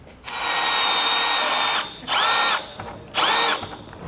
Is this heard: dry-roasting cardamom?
no